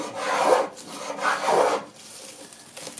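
A hand plane from a set of Stanley planes shaves wood in two strokes, each a close, breathy rasping swish, followed by softer scraping.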